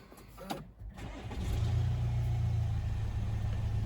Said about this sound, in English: if I just take us into the inside of the vehicle and start it up